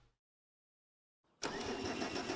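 A John Deere tractor engine in Farming Simulator 25 cranks and catches after a moment of silence, then settles into a loud, steady running rumble.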